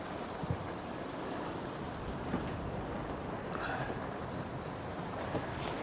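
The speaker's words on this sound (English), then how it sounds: "So the wind's around about 15 knots" Wind of about 15 knots on a sailboat running downwind, a steady broadband rush of wind and water with faint creaks, even and moderately loud throughout.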